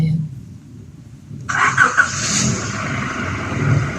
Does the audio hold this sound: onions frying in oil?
no